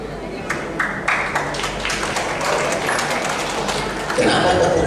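Audience clapping at a Muhammadiyah Halal Bihalal gathering during a religious lecture, a scattered, modest patter of hands that swells slightly near the end, with some voices underneath.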